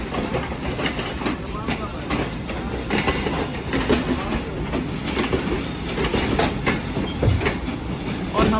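Shalimar Express train rolling through Rohri Junction in Pakistan, with a loud, steady rumble and clickety-clack of wheels on rails heard from on board, and indistinct voices under the noise.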